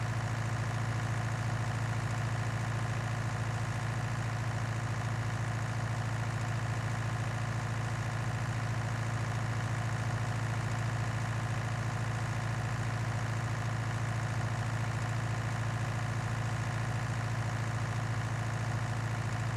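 A white tractor idles in Farming Simulator 19 while chopping alfalfa, a steady low engine drone with a constant hum that never changes for the whole stretch.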